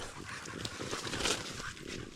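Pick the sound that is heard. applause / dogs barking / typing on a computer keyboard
dogs barking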